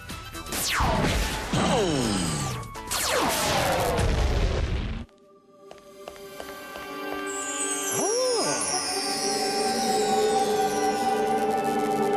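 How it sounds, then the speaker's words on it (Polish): Two loud booming blasts ring out with crashing debris over the first five seconds in a Sonic Underground cartoon, followed by quieter whirring and sliding electronic tones. "Ale wybuch!"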